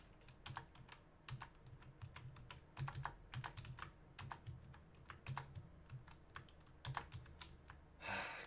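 Fingers type on a computer keyboard in irregular bursts of crisp key clicks and heavier presses, close to the microphone in a quiet room, ending with a brief rustle.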